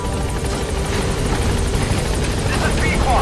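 A helicopter near a landing zone in Metal Gear Solid V keeps up a loud, steady rotor thrum and engine whine, with a voice talking over it throughout.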